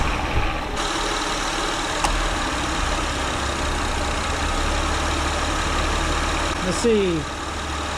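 A 2004–2008 Acura TL 3.2 VTEC engine idles steadily after an alternator replacement, a constant low drone running throughout, with a person talking briefly over it.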